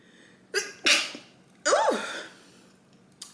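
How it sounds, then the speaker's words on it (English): A single sharp sneeze bursts out nearby with a quick intake of breath, followed by a short gasping exhale, then quiet. "Hold on, I gotta sneeze."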